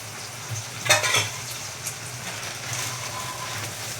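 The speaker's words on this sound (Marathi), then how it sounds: "आता त्याच्यात कांदा कढीपत्ता टाकायचं. जिरं झालं तर आता कांदा टाकते." Onion and curry leaves frying in hot oil with cumin make a loud sizzling burst that settles into a steady crackle, with a few stirring scrapes and no voices.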